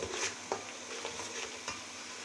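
Spice masala sizzles steadily in a pan, close and constant. A spatula stirs through it, adding a scrape about every half second. No voices are present.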